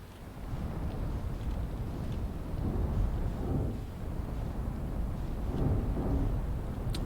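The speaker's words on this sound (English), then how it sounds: "Oh, another lightning bolt." Thunder from lightning strikes rolls through a stormy island in the space exploration game Outer Wilds. It is a sustained low rumble with swelling booms and no talking.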